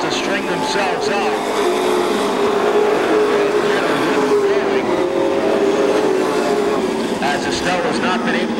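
Pro stock race cars run at Seekonk Speedway with a continuous roar of engines blended into a loud, steady drone, while a commentator talks over it.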